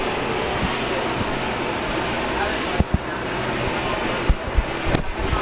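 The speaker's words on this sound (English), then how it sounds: "witness with us the arrival of the Cathay Pacific 747 freighter" A Cathay Pacific 747 freighter arrives at Brisbane International Airport, its engines making a steady broad roar that holds throughout, with a few brief thumps near the end.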